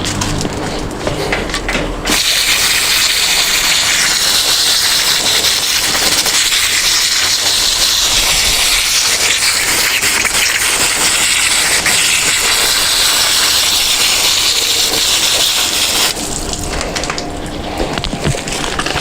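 Broadband hiss of a garden hose spraying water onto an orchid during repotting, starting abruptly and running steadily at close range for about fourteen seconds before cutting off.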